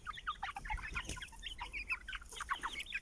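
Young chickens and roosters in a coop keep up a busy chorus of overlapping clucks and short calls, fairly close and continuous, with no one speaking.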